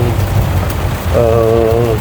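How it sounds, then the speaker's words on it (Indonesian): Heavy rain during a Suzuki Katana motorcycle ride on an uphill rural road in the rainy season. A steady, dense hiss runs under a continuous engine drone, with a tonal whine rising partway through. "Ini hujan cukup deras"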